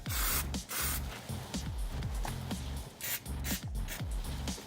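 Aerosol can of Plastidip sprayed in short repeated hissing bursts close by, with clicks and handling noise between passes.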